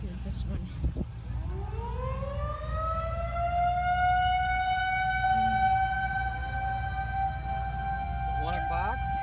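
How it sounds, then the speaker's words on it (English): A tornado warning siren sounds during its monthly first-Saturday test outdoors, a long steady rising wail held at a constant tone over a continuous rumble of background noise. "It's the first Saturday of the month, so they're doing Tornado Sirens."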